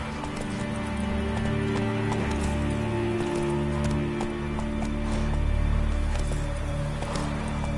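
A horse galloping in The Witcher 3 video game, rhythmic clip-clop hoofbeats at a steady pace, close and continuous, with faint ambient game sounds behind.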